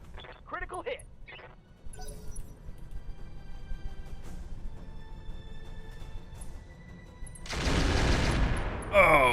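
Incendiary Rack 5 weapon fire in the mech game Roguetech lands as a loud, broad rushing barrage in the final seconds, after quieter game effects and a voice talking earlier.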